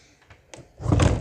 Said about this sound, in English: The door comes right off.